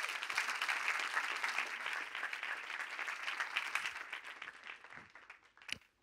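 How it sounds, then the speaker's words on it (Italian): A live podcast audience applauds, a dense clapping that holds steady for several seconds, then thins and tapers off with a few last scattered claps. "al quale chiediamo un applauso"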